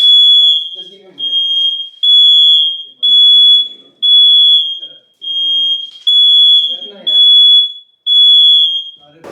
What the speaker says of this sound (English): the fire alarm just went off because I think I left the oven for way too long